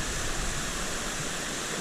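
The river and Shypit waterfall in Pylypets rush in a constant, loud broadband roar of falling water, steady and unbroken.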